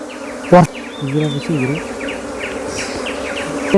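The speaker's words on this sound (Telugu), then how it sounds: "చూడండి ఈగలు ఎలా వాళ్తున్నాయో" Wild honey bees swarm in a dense, steady drone close by, many wings humming together, with a sharp knock near the start.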